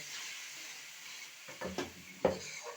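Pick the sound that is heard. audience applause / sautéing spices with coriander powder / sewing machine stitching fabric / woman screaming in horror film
sautéing spices with coriander powder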